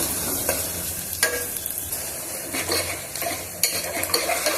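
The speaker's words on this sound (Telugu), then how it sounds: "కొద్దిగా ఉల్లిపాయ ముక్కల్ని వేయించుకున్నాము" Onion pieces and green chilli sizzle in a pan for goat head curry while a spoon stirs them, giving a steady fry hiss broken by several sharp scraping clinks of utensil against pan, close and without voices.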